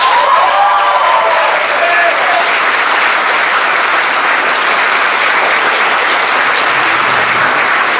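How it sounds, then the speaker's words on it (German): Audience applause fills a music theatre, steady and dense clapping sustained throughout, loud and close with no clear voices above it. "Und auch noch ein ganz großes Applaus an den Ton"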